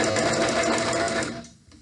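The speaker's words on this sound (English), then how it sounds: "I'm going to now backstitch," A sewing machine backstitching a pillowcase seam runs in a brief, fast, steady mechanical whir with rapid needle rattle, then stops abruptly near the end, close and alone.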